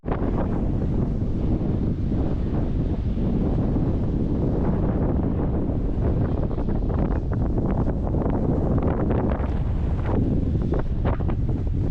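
Steady, loud wind roars across the microphone on the St. Pete Pier in St. Petersburg, Florida, a constant rumbling buffet that stays unbroken throughout, with faint water and surf noise beneath.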